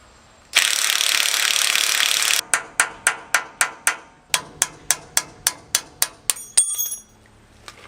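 Tool work on a truck brake caliper, a steady two-second burst of harsh mechanical whirring followed by about a dozen sharp evenly spaced metallic strikes, close and loud, with no talking.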